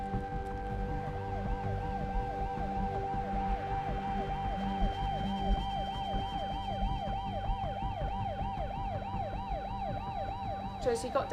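An ambulance siren wails at a desert ultramarathon, its rising and falling tone cycling steadily over a low engine rumble and growing louder and more prominent toward the end.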